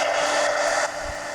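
A heat gun blows over ink on a coloring page, a loud steady whooshing hiss with a whine that drops in level partway through.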